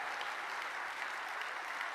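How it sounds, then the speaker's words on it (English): An audience at a leadership speaker's talk applauds: steady, dense clapping from many hands fills the whole moment at a moderate, somewhat distant level. "Give yourselves a round of applause."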